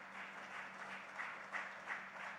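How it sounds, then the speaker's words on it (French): Audience applause at a CEAF Benin conference day: a faint, muffled, steady patter of clapping from a hall audience, heard from some distance with a low hum beneath. "Nous pouvons l'applaudir."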